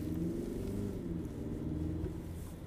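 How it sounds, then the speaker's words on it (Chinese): Porsche Cayenne Coupe plug-in hybrid accelerating in Hybrid Auto mode, heard from inside the cabin as a steady low engine rumble with a droning hum that eases slightly toward the end, with no talking. "风噪不大，发动机噪音挺大的。"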